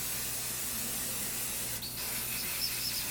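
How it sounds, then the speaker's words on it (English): Protector spray misted onto a Louis Vuitton Speedy Bandouliere 25 Damier Azur canvas bag, heard as one close, steady aerosol hiss lasting a few seconds. "I wanted to spray the bag to keep it from staining"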